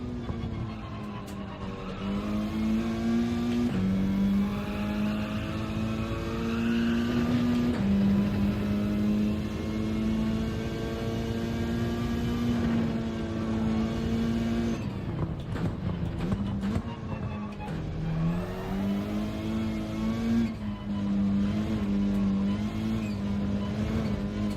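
A front-wheel-drive race car in the Gran Turismo 7 video game, its engine droning and rising through revs as the throttle is pumped around the lap, with tire squeal and shifting pitch running continuously and no voices.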